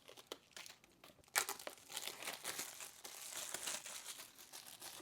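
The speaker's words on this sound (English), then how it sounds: "Apple always makes it nice and easy to unwrap these things" Cardboard and paper packaging of an AirPods Pro box crinkles and tears close by, with a sharp rip partway through and steady rustling after, no talk.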